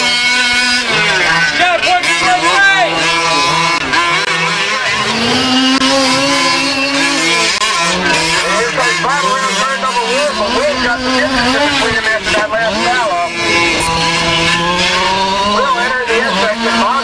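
RC cars race at an RC raceway during the No Limits RC Challenge, their high-pitched motors whining and rising and falling in pitch under continuous loud talk over a sound system.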